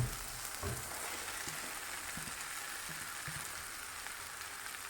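Potatoes sizzle in a pan as cluster beans go in, a soft steady hiss like light rain with a few faint clicks and taps early on. Quiet overall, with no voices.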